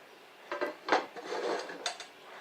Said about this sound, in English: So just grab my pan here.